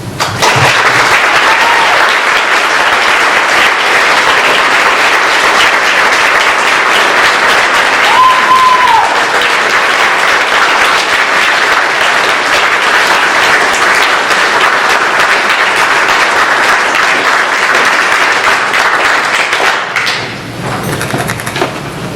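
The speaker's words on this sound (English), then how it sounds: "I want to begin our program with a round of applause for our invited guests and any policemen in the audience" Sustained, loud applause from an audience at a program about police exchanges to Israel, steady and dense for about twenty seconds before tapering off abruptly near the end, with no talking over it.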